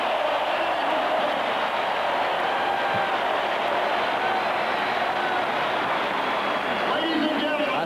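A stadium crowd at a 1985 Miami vs Florida State college football game keeps up a dense, steady roar of cheering, loud and unbroken, with a commentator's voice running over it.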